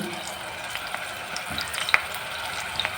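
Onion paste frying as the base for a fish curry, a continuous close sizzle broken by scattered scrapes and clicks of stirring in the pan, with no voices.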